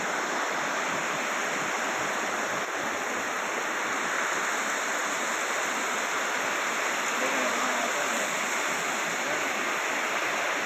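Floodwater after heavy rain in Pandalur rushes along in a steady, loud, broadband roar like a torrent, continuous throughout with no distinct voices.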